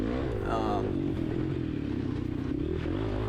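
A Kawasaki KLX300 dual sport motorcycle races in a harescramble, its engine droning loud and close throughout, with a rider talking over it.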